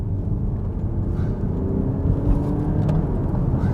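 A 2016 Audi Q5 TDI Quattro diesel SUV with an S-tronic gearbox pulls away under acceleration, a steady low engine rumble and road roar filling the cabin with no obvious gear breaks.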